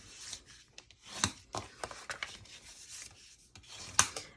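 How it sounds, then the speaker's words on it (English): A bone folder rubbed along the fold lines of a paper treat box, giving soft, quiet scraping strokes in short irregular bursts with a couple of sharper swipes. "So just to get your bone folder and rub it down all those lines."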